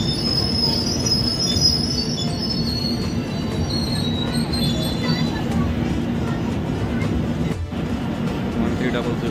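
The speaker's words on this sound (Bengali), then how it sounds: "আমাদের ট্রেন ধীরে ধীরে তার পথে বিভিন্ন গুরুত্বপূর্ণ স্টেশন ছুঁয়ে যাবে" The Howrah Amritsar Mail, an Indian express train, runs along the tracks with a loud, continuous rumble and shrill wheel squealing. Close and sustained, with voices underneath.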